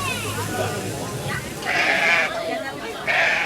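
Freshly shorn sheep bleat close by, with two distinct calls in quick succession over a soft background murmur.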